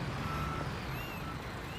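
A truck in the video game Construction Simulator backs up with a few evenly spaced reversing beeps over a low engine hum, brief and fairly quiet.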